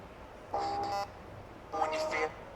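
A TECNO Spark Go 2024 phone's dual speakers play two short bursts of tonal, musical audio, each lasting about half a second, with quiet gaps between them and outdoors.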